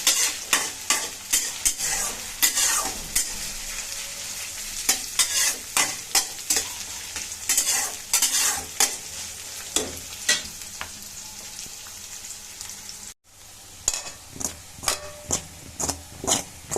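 Potatoes fry in hot oil on a high flame, a constant close sizzle broken by frequent scraping stirs of a spatula against the pan in an uneven rhythm; no voices.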